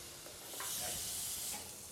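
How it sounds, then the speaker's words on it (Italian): Roe deer loin searing in a pan with garlic and thyme gives a steady, loud hiss and crackle of frying that swells slightly midway and continues without talk. "e andiamo a rosolare il lombo."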